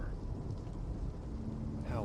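Sudden heavy rain drums down in a dense, steady roar that holds at an even level throughout, with no pause or build-up.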